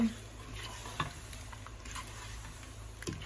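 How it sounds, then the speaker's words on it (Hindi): Beef biryani masala with yogurt is stirred and fried in a pot, making a faint, steady sizzle with occasional soft scraping clicks from the spoon, close and quiet. "दही के साथ भी हम इसकी खूब मज़े से भुनाई करेंगे इसको खूब भुनेंगे मज़े से"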